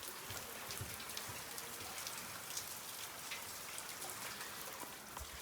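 Steady monsoon rain falls during flooding in Maharashtra, a continuous dense hiss of drops striking surfaces that stays even and moderately faint, with no voices.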